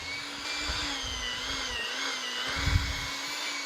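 An electric hand mixer beats cream cheese and powdered sugar for pecan pie dip, a steady close whirring motor hum running throughout with a few soft bumps and no talk.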